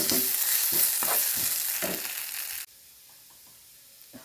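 Onions sauté in a pan for Kerala-style beef fry, giving a loud steady sizzle broken by rhythmic scraping stirs that then drops abruptly to a faint quiet hiss with occasional soft clinks.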